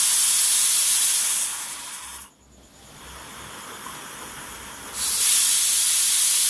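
Pressure cooker whistle hissing loudly while vegetable khichdi cooks, a strong steady jet of steam that drops away briefly in the middle and then surges back at full force.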